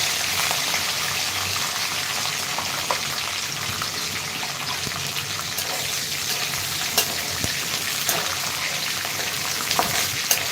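Peanuts frying in a pan with green chillies and curry leaves, a steady bright sizzle running throughout with a few faint clicks of a spoon, no voices.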